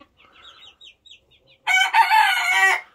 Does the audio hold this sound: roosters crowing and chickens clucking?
yes